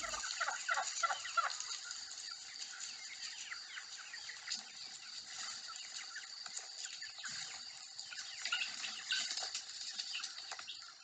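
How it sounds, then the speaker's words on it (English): Guinea fowl near their nest on a farm keep up a rapid, harsh chattering alarm call, several birds overlapping at close to moderate distance throughout, with no one talking. "With the guineas right now. I'm a little bit close to their nest, and they are not liking it."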